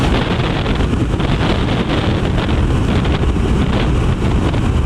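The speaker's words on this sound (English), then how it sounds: "It always seems to be windy, this road." Loud, steady wind buffeting the microphone in a continuous roar on a BMW R 1250 RS motorcycle ride, with no talking.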